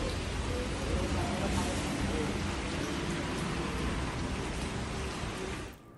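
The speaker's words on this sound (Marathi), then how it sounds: "पावसाचा जोर वाढतोय" Heavy monsoon rain pours down in Ratnagiri, a dense, loud, steady hiss of falling water that continues without a break until it cuts off sharply just before the end.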